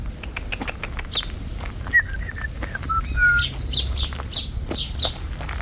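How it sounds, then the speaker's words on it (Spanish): Small birds chirp and tweet in short bright calls over a steady outdoor background hum in a garden in Salamanca, with scattered clicks and rustles close by. "Está lleno de pajaritos."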